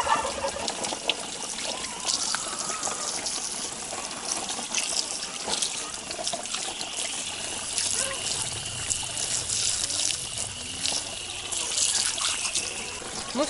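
Running water trickles and splashes steadily while a turkey carcass is washed outdoors, a close, continuous stream with occasional gushes and no talk.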